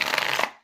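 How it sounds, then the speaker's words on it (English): A deck of oracle cards is shuffled once at a tarot reading, making a quick papery riffle of under half a second that ends abruptly. "One more shuffle."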